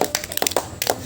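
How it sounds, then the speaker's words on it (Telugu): Congregation at a Telugu worship service during a fasting prayer gathering clapping hands together, several sharp, fairly close claps in a quick irregular burst, with no talk over them. "క్లాప్స్ కొట్టండి."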